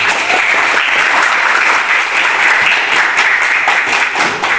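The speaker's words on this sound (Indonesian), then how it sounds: "Tepuk tangan dulu dong buat SMK Negeri 1 Prabu Muli." Students and guests at a Youth Pledge Day ceremony at SMK Negeri 1 Prabumulih break into loud, continuous applause, a thick, even rush of many hands clapping close by for several seconds without speech.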